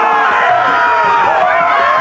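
Roaring arena crowd in a Game of Thrones video game, a dense, steady wash of cheering and shouting voices that fills the whole stretch at high level.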